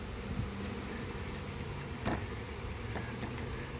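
Honeybees from a 3-lb package buzz steadily while being installed into a hive with a queen, a close, continuous hum with a few brief knocks and handling sounds.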